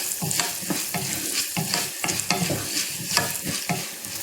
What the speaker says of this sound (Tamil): படபடன்னு சத்தம் கேட்குது பாருங்கள், பொரியிற சத்தம்